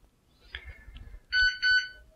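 A Proscenic 850T robot vacuum cleaner gives two short, loud electronic beeps in quick succession as its cleaning schedule is cancelled, following a faint click and some handling noise.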